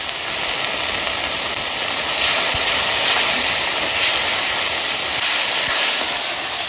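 Turmeric goes into a hot pan with spices, green chilli and ginger paste for chicken kosha, and a loud, steady broadband hiss of frying runs unbroken from start to finish.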